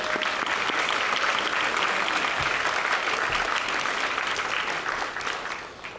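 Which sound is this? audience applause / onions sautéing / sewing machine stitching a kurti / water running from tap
audience applause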